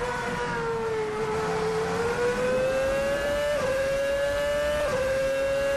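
VRC F2007 Formula One car in Assetto Corsa, a loud, steady high-pitched engine scream that rises with the revs, with two brief dips at gear changes.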